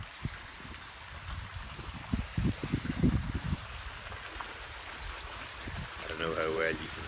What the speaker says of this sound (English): a water feature.